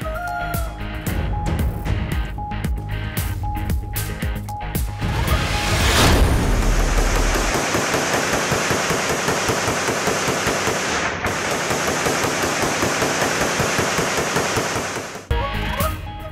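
Celebratory aerial gunfire at a victory celebration in Pakistan, a long loud burst of rapid crackling shots and pops fired in quick succession, continuing for many seconds with a dense rattling texture.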